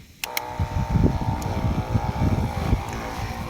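A farm water pump for drip-irrigation fertilizing kicks on abruptly and settles into a steady, throbbing engine drone with a low rhythmic chug, loud and close.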